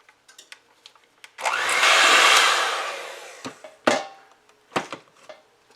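Electric mixer whirring steadily through cake batter for a Boston cream poke cake, a loud continuous drone lasting a couple of seconds and then stopping, followed by scattered clinks and light kitchen knocks.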